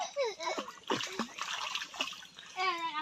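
A child learning to swim splashes in the water with repeated bursts and splatters, nearby and moderately loud, as other voices talk and call out over the splashing.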